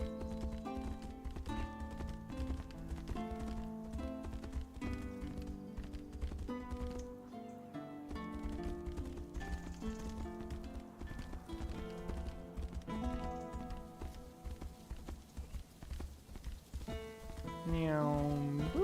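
Horse hooves in the video game Tainted Grail: Fall of Avalon: a steady clip-clop of galloping runs for most of the passage over game music.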